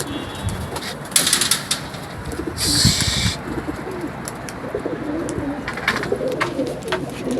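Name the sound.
pigeons cooing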